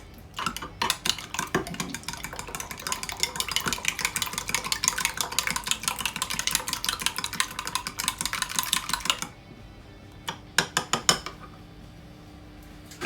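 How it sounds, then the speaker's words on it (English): A whisk beats eggs into milk in a bowl, a fast, steady clatter of metal tines against the bowl for about eight seconds, followed by a few slower taps and scrapes. "whisk that mixture together so the eggs incorporate fully into the milk"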